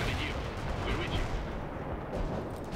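Constant rumbling battlefield noise of tank cannon and gunfire in the video game World in Conflict, a dense, loud wall of explosions and shots near a bridge with no clear gaps.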